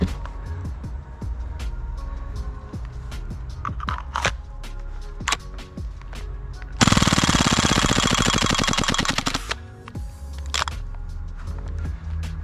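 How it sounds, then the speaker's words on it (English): A gas-powered gun dumping its magazine on full auto: scattered clicks and handling noises, then a rapid continuous burst of shots lasting about two and a half seconds before stopping, with a few more clicks after. "So let's just mag dump this real quick. Full auto."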